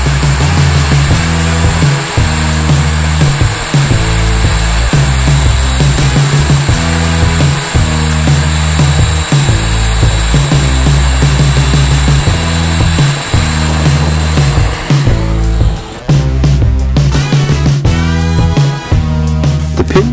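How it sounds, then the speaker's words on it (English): A power drill runs loud and steady, boring a one-inch-deep tiller pin hole for a Raymarine ST1000+ autotiller, its motor pitch rising and falling in repeated pulses, then grinding harder near the end. "The instructions say to drill the hole for the tiller pin to a depth of 1 inch."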